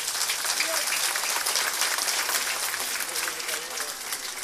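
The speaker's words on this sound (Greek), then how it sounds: "ένα θερμό χειροκρότημα για τον εμπνευστή αυτής της βραδιάς" An audience at an awards ceremony for Cretan artists in Heraklion gives dense, sustained applause, many hands clapping steadily close by for the whole stretch.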